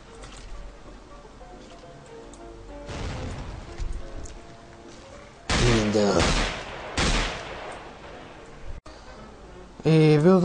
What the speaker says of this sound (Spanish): Se me armó un tiroteo